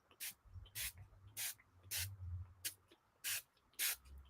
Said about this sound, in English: now I'm just going to come back in over the top of it and I'm going to spray it all again with this one